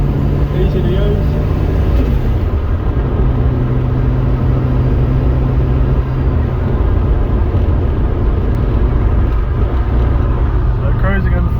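Toyota Supra fitted with a 1.5JZ engine and a diesel gearbox, cruising in fifth gear: a steady, loud low engine drone with road and wind noise, holding a constant pitch throughout.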